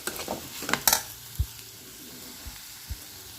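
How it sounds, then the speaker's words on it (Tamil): Potatoes tossed with salt and chili powder in a pan for a Tamil-style potato fry, a few soft sizzles and light scrapes of stirring, quiet and intermittent with short spoon knocks. "இப்போ உப்பு சேர்த்து எல்லாத்தையும் சேர்த்து கிண்டிக்கிறோம்"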